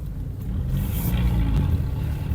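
A Nissan Pathfinder military off-road vehicle drives steadily in second gear, its engine giving a close, continuous low drone with slight rises in revs.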